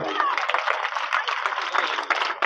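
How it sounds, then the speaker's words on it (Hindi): A crowd at a BJP political rally claps loudly in a dense, continuous burst that fills the moment, with voices mixed in. "जोरदार ताली बजाओ।"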